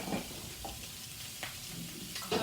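Breakfast squares cook in a 12-inch family skillet, giving a steady, close, even sizzle with faint crackles and no voices.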